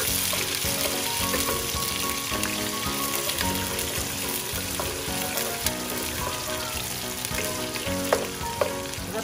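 Garlic and onion sauté in a hot pan for embutido, a steady close sizzle and crackle of frying with occasional stirring clinks, running continuously without any voices.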